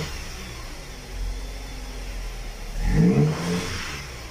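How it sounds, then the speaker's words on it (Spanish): A Dodge Avenger 2.4 engine with a newly replaced throttle body idles steadily, then revs hard once near the end, rising sharply and settling back. It is close and loud, with no talk. "Ahí está, ya acelerando el Avenger."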